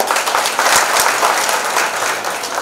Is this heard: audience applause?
yes